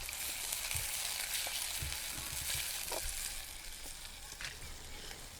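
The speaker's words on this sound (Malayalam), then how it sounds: "ചീനച്ചട്ടിയിലെ എണ്ണ ചൂടാകുമ്പോൾ ഉള്ളി വഴറ്റിയെടുക്കും." Onion sautéing in hot oil in a pan for a Wayanad tribal dish, a steady close sizzle and frying hiss with occasional soft stirring clicks throughout, no talk.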